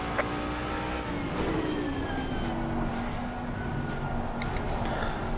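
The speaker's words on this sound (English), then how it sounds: "The car is exiting the pits, watch out." Racing car leaving the pits in a racing game, its engine droning steadily and rising in pitch as it pulls away. A siren-like tone runs underneath, and there is no talk.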